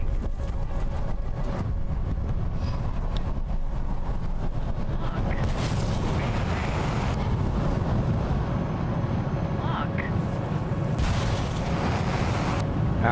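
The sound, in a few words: missile explosion in War Thunder video game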